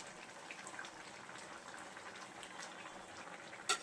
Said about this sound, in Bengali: এখন আমি ভেজে রাখা বড়াগুলো ঝোলের মধ্যে দিয়ে দেব।